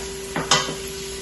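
Vegetables, garlic and red pepper flakes sizzle in olive oil as a utensil scrapes through them in two quick stirring strokes over a constant low frying hiss.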